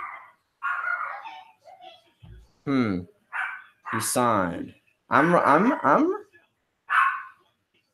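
A pet dog barks and yips in short bursts indoors, mixed in among a man's speech.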